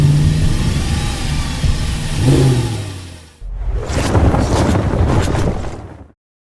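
A BMW 325i engine runs and revs, a steady loud drone rising in pitch, then a second harsher rev burst after a brief dip, close to the car and without any talk.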